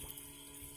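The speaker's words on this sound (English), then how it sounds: "first water coming out of our hose. So the pump is definitely pumping" A water pump pushes water out through a hose outdoors, giving a faint, steady rushing and splashing flow with no talk.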